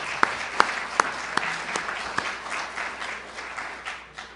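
An audience applauding Dean Peart and Ms. Rockwell, a burst of close, loud clapping with a few sharp individual claps standing out at the start before it settles into a dense, fading round of applause.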